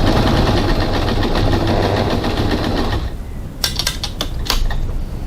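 A sewing machine runs steadily and loud for about three seconds while stitching a pocket on a crossbody bag, then stops, followed by a few sharp clicks and clacks.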